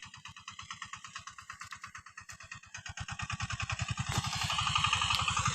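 A tractor's steady, rapidly chugging engine runs close by, its rhythmic putter growing louder and faster toward the end as it drives off.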